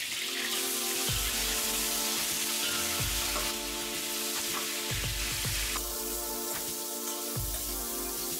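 Loud, steady sizzling and crackling of boneless lamb frying in hot oil in a large pot, close up, with occasional clanks of a utensil stirring.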